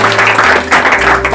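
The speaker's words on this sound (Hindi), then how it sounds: "ताली बजाकर प्रभु को महिमा दो" Applause from a church congregation honouring the Lord after a Bible quiz answer, a steady dense patter of hands filling the short moment, close and loud with no talking over it.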